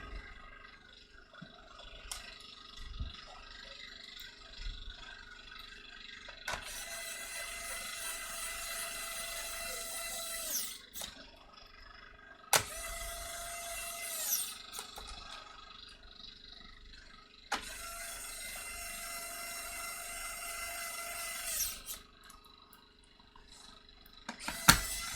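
Electric screwdriver whirring in several bursts of a few seconds each as it drives screws back into an Acer Aspire laptop case during a case swap, close and fairly loud, with small clicks and handling sounds between the runs.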